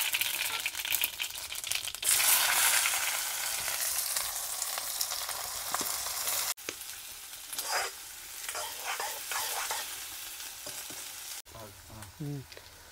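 Green chilies and chopped onion hit hot oil with a loud, dense sizzle, broken by two abrupt cuts, with spoon clatter and stirring against the pan near the end.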